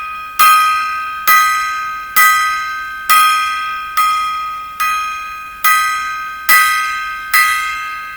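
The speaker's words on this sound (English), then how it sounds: "There's our 10 gong salute to Mr. Bob Barker of The Price is Right" Ten strikes on a gong ring out as a salute, each a loud metallic hit that decays slowly before the next, spaced at an even, steady pace of roughly one per second.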